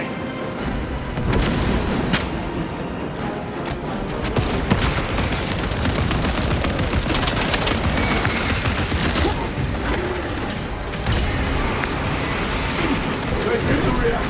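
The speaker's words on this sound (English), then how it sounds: "Using crack grenade." Heavy battle din from the Space Marine 2 video game, with sustained rapid gunfire, mechanical clatter and booming grenade blasts running continuously at close range, with shouted voices mixed in.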